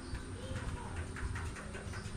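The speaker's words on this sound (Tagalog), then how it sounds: "Parang kalapati din eh no." A zebra dove coos outdoors, a few soft, rhythmic low notes rising faintly over steady background noise, fairly distant and quiet.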